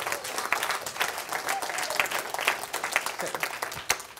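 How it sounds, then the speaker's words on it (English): Audience at a business talk giving a round of applause for a guest, steady, crowded clapping throughout with a few louder individual claps standing out. "Give him a round of applause, everyone"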